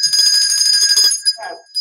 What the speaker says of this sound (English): I think I need the bells.